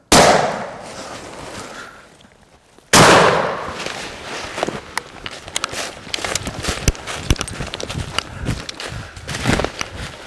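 A single sharp gunshot rings out while turkey hunting in the Kentucky mountains, its loud crack echoing away. Another burst follows, and then come scattered rustling and footsteps through the woods.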